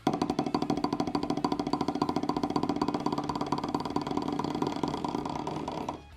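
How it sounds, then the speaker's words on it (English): A rapid, continuous buzzing drum roll on a practice pad, dense and even for several seconds before stopping abruptly. "Buzz roll on a drum pad, there you go."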